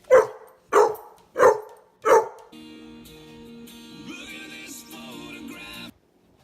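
A dog barks four times in a steady, evenly spaced run, each bark loud and close, before a song starts playing and continues alone after the barking stops.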